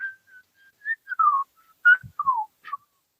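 A person whistles a Christmas tune, clear close melodic notes in short phrases with pauses between them, alone without talk.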